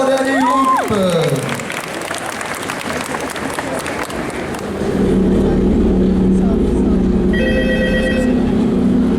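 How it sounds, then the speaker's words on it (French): A convention crowd applauds a cosplay group, with steady clapping and cheering that gives way to a phone ringtone and a recorded voice over music. "On les applaudit bien fort"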